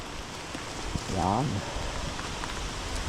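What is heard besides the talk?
rain falling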